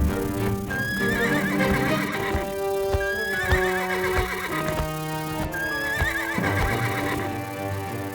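A cartoon flying horse, Kuda Sembrani, neighs in loud, shrill whinnies over rhythmic clip-clopping hooves, repeated several times with music-like tonal layers and no speech.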